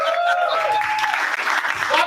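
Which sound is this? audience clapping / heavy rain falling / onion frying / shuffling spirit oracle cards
audience clapping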